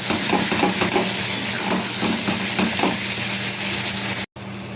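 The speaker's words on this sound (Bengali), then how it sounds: "একটা তেজপাতা, আদা জিরে বাটা, গুঁড়ো হলুদ আর গুঁড়ো লঙ্কা। এগুলো আমি এবারে একসাথে কষতে থাকবো।" A bay leaf, ginger-cumin paste, turmeric and chilli powder sautéed together in oil for a Bengali fish curry, with a loud, close continuous sizzle and repeated scraping stirs, cut briefly by a short gap near the end.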